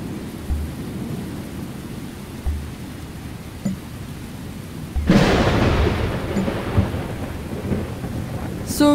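In the video game ChimeraLand, a rainstorm hisses steadily while thunder rolls, a sudden loud crack bursting in midway and swelling the downpour, with scattered soft thumps and no voices.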